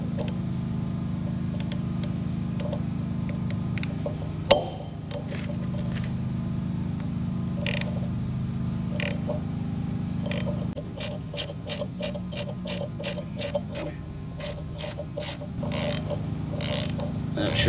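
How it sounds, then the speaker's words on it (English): Ratchet adapter turning on a hay tedder wheel repair, a steady mechanical whir broken by a run of quick sharp clicks from the pawl near the end, close and fairly quiet. "Cool thing with this kit is it comes with a ratchet adapter."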